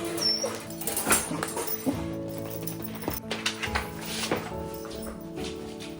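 Rescue dogs in the morning give soft, high whimpers and whines with a few light taps, close by and fairly quiet against a steady indoor background.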